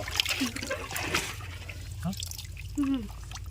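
Water trickles and splashes into a small pit in the middle of a harvested paddy field, with people talking over the steady outdoor wash of flow.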